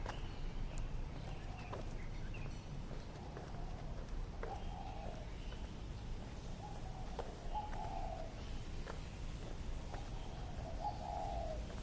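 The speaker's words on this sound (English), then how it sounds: "I can hear pigeons somewhere." Soft, repeated cooing of pigeons in the distance in Taiwan, several low calls spaced out over a constant background rumble, with occasional faint clicks.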